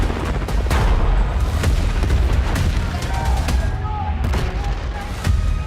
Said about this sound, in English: Returning gunfire in the streets of Cairo.